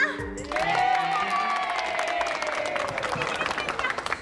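Studio audience applause and cheering on a comedy show, a broad wash of clapping and crowd noise rising quickly and holding steady, with a voice or tone ringing through above it.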